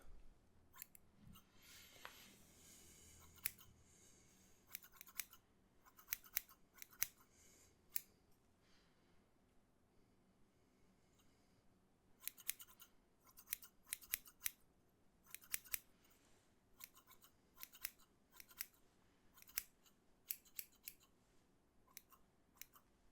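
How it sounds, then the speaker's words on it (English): Scissors snip hair in a close, quiet ASMR barber trim, with bursts of crisp rapid clicking separated by soft pauses. "Okay, get you trimmed up."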